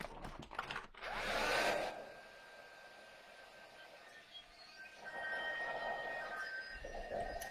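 A heat tool blows on craft heat foil with a soft, steady hiss of air that rises in two bursts, faint and close, with no talking.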